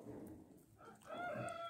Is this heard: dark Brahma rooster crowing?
yes